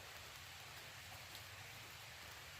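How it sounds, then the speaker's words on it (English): Steady rain falls outdoors during a wet-weather test of WetFire tinder lit with a ferro rod, a constant, even hiss of drops with no pauses and no voices. "It's pure rain right now."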